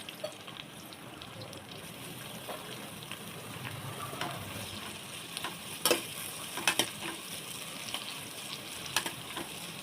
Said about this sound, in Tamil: நம்ம கட் பண்ணி வச்சு இந்த ஆனியன் எடுத்து எண்ணெயில் போட்டுடலாம்.